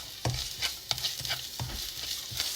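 Chopped onion drops into hot oil in a pan and sizzles, with a steady frying hiss and several sharp scrapes and knocks of stirring spaced through the short stretch.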